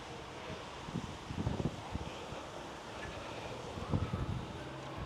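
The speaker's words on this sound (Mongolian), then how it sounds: "гадаа амир салхитай энэ бороотой" Faint, low wind rumbles outdoors in rainy weather, in uneven gusts, swelling twice before easing, with no one speaking.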